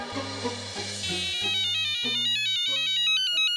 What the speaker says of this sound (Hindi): लो, डॉक्टर हाथी का भी फोन आ गया।